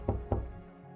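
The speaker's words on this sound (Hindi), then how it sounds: "आखिर उसका इंतजार खत्म हो ही गया जब दरवाजे पर दस्तक हुई।" Two firm knocks on a door, close and fairly loud, spaced about a quarter second apart with a short resonant thud after each.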